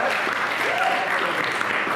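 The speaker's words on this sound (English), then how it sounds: "yeah, you can clap for" A crowd at a political forum, the 2018 New York State Democratic Attorney General forum, clapping in a steady, dense burst of applause that fills the room, with a voice faintly underneath.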